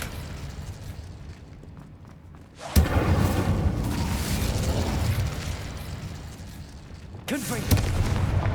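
A fire spell cast in the video game Hogwarts Legacy erupts as a sudden loud whooshing burst that roars on for several seconds, then a second burst flares near the end, heard up close over low ambient game sound.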